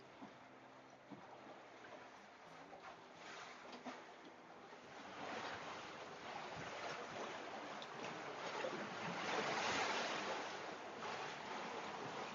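A sailboat runs on open ocean with the swells and easterly breeze behind it. A soft, continuous wash of water and wind noise swells slightly louder midway, with no talking.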